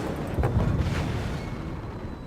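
Naval gunfire and explosions in World of Warships, a dense low rumbling blast that swells at the start and slowly decays into a sustained roar.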